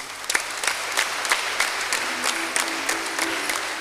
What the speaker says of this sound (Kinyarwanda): Kugira ngo tumuhe amashyi Joyce.